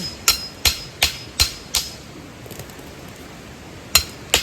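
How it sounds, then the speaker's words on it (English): Repeated sharp strikes of a small hammer driving a post into hard, rain-soaked clay ring out in a steady rhythm, a run of five blows, a pause, then two more, each with a short metallic ring. "trying to get this in with just a little hammer"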